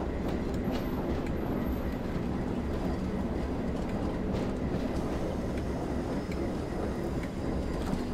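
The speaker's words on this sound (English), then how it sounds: "The train is still going downhill," A train in the Train Sim World 4 simulator runs steadily downhill on a Northern Trans-Pennine route. Its low rumble and rolling rail noise continue without a break, with faint clicks on top and no talking.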